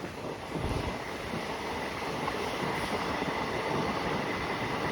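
Kuvempu Express passenger train running on the Shivamogga–Hassan line, a continuous loud rumbling roar of wheels and carriages heard from onboard, mixed with heavy wind buffeting and no talk.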